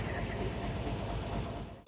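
Nakshikantha commuter train with its locomotive pulling out from Dhaka along the Padma Bridge rail line: a loud, close, continuous rumble of wheels on track that holds steady and eases off slightly at the end.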